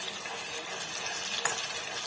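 Sliced onions fry in mustard oil in a pan while being stirred, giving a steady, close hiss and sizzle with faint scraping from the stirring.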